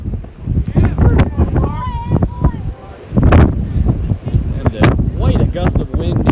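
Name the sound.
gust of wind at a baseball game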